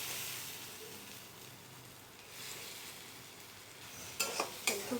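Spice masala fries dry in oil in a pan for a meat curry, giving a soft, steady sizzle. A few louder scraping stirs come near the end.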